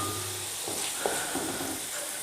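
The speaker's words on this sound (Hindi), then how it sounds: "अब ये मैं सिर्फ़ इसको 1 मिनट के लिए भूनूंगी।" Spinach and chicken frying together in a pan for Murg Palak, giving a steady soft sizzle and hiss throughout, with a faint stir or clink partway through, moderately close and not loud.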